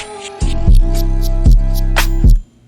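A phonk beat with its master pitch automated smoothly downward plays in heavy, booming bass hits a few beats apart under bright percussion, loud and close, then stops, with no talking.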